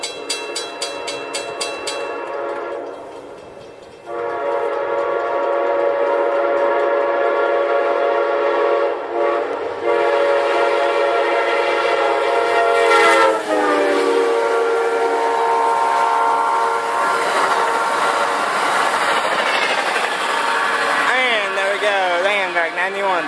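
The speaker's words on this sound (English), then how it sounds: "here comes Amtrak 91, the Silver Star" An Amtrak Silver Star passenger train roars past close by, long and loud, its horn blaring in sustained tones with a pitch bend as it goes by.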